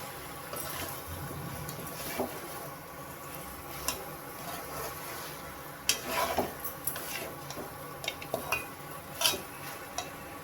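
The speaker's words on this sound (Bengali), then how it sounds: "মাটনের সঙ্গে মশলাটাকে কষবো।" Mutton and spices stirred in a pan over low gas, a spoon scraping and knocking against the metal in scattered clicks above a soft, steady background hiss of frying, with no voices.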